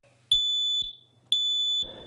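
A smoke alarm sounds two sharp, high-pitched beeps, each about half a second long and evenly spaced, loud and close against a quiet room with a faint murmur in between.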